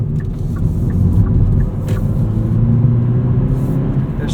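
A 2019 Hyundai Elantra GT N Line drives along a road at sunrise, its engine a steady low rumble with constant road and tire noise from inside the cabin, loud and unbroken.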